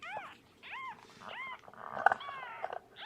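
A cat meows several times in quick succession, close by and fairly soft, with short rising-falling cries separated by brief pauses.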